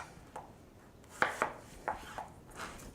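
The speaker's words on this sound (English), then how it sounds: "I slice it lengthwise in half, and then I slice those in half" A knife slices through zucchini on a cutting board, several separate crisp cuts with sharp thuds, spaced irregularly and close up with no voices.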